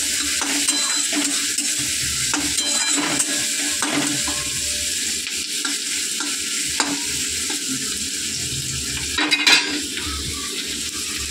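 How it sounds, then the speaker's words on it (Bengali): Chopped onion and whole chillies fry in oil with a continuous sizzle, while a utensil stirs and scrapes against the pan in irregular strokes, with a few sharper clinks of metal and no talking. "আমি তেলের মধ্যে কোচানো পেঁয়াজটা দিয়ে দেবো। আর কতগুলো গোটা লঙ্কা দিয়েছি, দিয়ে দেবো।"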